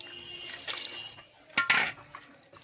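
Water trickles and splashes as it is poured little by little into wheat flour dough for pitha, in short quiet pours with a brief louder splash near the end.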